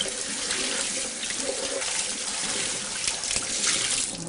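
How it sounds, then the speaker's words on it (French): Konjac noodles are rinsed in a fine strainer under cold running tap water, a steady close splashing stream with slight shifts as the noodles are moved. "On les met un chinois et on rince à l'eau froide"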